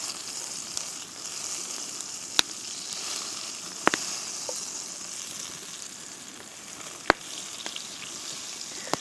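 Three tablespoons of butter sizzle steadily in a Dutch oven over a campfire, a continuous soft frying hiss broken by a few sharp pops and crackles.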